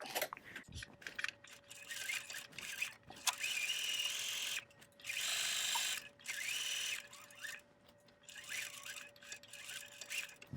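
A sewing machine runs in short bursts of rapid mechanical stitching, stopping and starting several times while sewing a 1/4-inch seam on doll pants, with quiet handling noises between runs.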